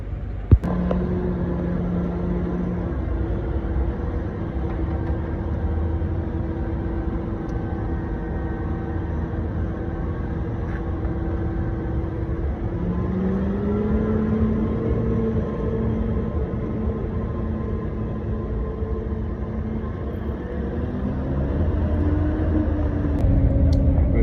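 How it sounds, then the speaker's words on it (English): A bus pulls away from Macroom town, its engine droning in a low steady rumble with gear changes shifting the pitch upward, heard from inside the cabin without any talk. "On the bus, just leaving now."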